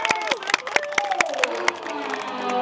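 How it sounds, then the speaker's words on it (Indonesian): A small indoor audience claps in a lively burst of sharp, close, irregular handclaps, with voices and excited vocal sounds mixed in. "Tepuk tangan yuk buat kita semua."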